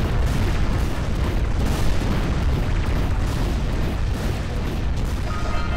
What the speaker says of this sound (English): Yellow eco makes big booms.